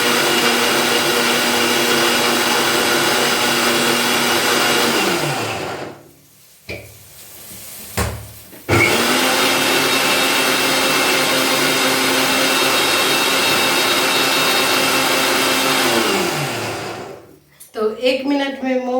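An electric blender grinds tomato, onion and garlic for matar paneer in two long, loud, steady runs. Each run winds down, with a short gap of clatter between them and brief talk and noise at the end.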